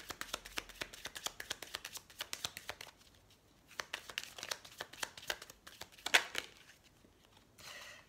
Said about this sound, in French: On va prendre la carte synthèse.